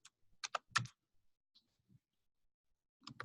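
Bursts of clicky keystrokes on a computer keyboard, a quick cluster of taps early on, a long quiet gap with a couple of faint clicks, then another short run of typing at the end, close and fairly soft.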